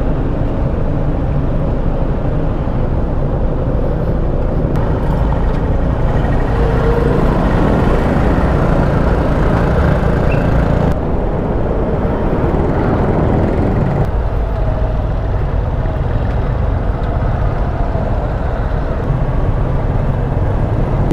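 Road traffic in Puerto Princesa, slowed by roadwork: a steady, dense rumble of car and truck engines close by, with brief shifts in the noise as vehicles pass and a faint hiss like an air brake.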